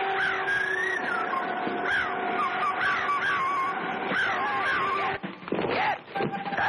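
A giant cartoon bird screeches and caws in a string of loud, harsh, rising calls during an attack, with a brief pause and more squawks near the end.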